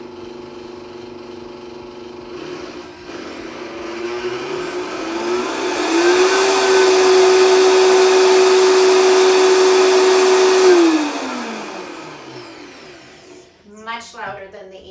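A Vitamix Explorian E320 blender runs empty, its motor whine rising as it spins up, holding a loud steady roar for several seconds, then winding back down.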